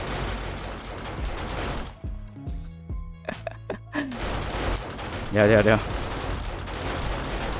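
Automatic turret gunfire in the video game 7 Days to Die, modded with added turret ammo types: rapid, dense bursts of shots that stop for a short gap and then resume, with someone talking over it.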